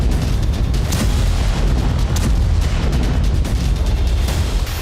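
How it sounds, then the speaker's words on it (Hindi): Heavy booming blasts from Russian strikes in Ukraine, a dense, loud rumble with repeated bursts and sharp cracks piling up continuously with no voices. "पहला विस्फोट, दूसरा विस्फोट, तीसरा विस्फोट"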